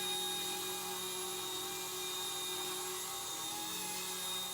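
An Eachine E120 BO-105 RC helicopter flying indoors gives off a steady high-pitched motor whine and rotor buzz, close and continuous with no talking.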